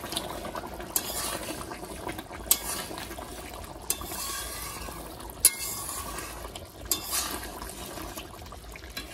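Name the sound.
meat curry boiling in a pot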